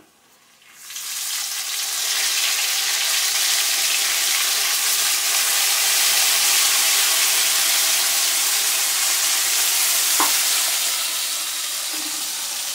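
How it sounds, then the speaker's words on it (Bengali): Hilsa fish heads and potatoes fry in a pan of oil with a steady, loud broadband sizzle that holds throughout, broken by one brief clink of a utensil being stirred through. "এটাকে একটু হালকা করে নেড়ে দিতে হবে। এবার আমি এটাকে নেড়ে দিলাম ভালো করে।"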